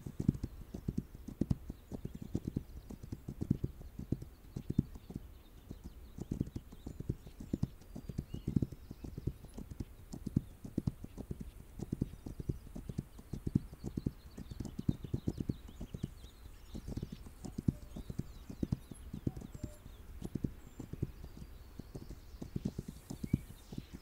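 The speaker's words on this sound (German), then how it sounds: "Okay, wenn ich mit dem Pferd halt renne." Rapid, steady hoofbeats of a galloping horse in the video game This Land is My Land thud on and on without pause, loud and close, with faint ambient noise above.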